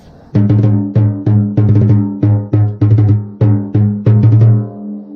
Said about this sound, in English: This is an Irish drum, and it's called a bow drum,